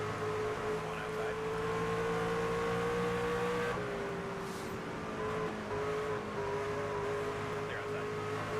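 Race car engines in the NASCAR 25 game roar steadily at high revs, a sustained droning whine with a slight pitch drop midway, close and continuous as cars run in a pack; a voice talks over it.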